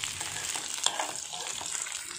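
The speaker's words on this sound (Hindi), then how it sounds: "अब मैं इसमें फ्राई करूँगी। थोड़ी सी अजवाइन डाल ली है" Ajwain seeds frying in hot oil for arbi sabji, a steady dense sizzle with small crackles, close and constant with no talking.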